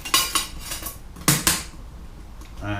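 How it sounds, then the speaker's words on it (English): A lid is set onto a thermal cooker pot holding Christmas cake batter with cranberries and almonds, making a few sharp metallic clinks and clatters, with a brief scrape at the end. "Now next thing to do is just put the lid on"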